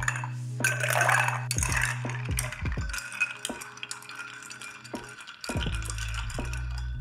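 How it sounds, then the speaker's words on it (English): Ice clinks and rattles as a Hanky Panky, a gin, sweet vermouth and Fernet-Branca cocktail, is stirred in a mixing glass, with close bright chinks, a run of spoon swirling, then scattered taps and clatter. "Now we're gonna add ice and stir."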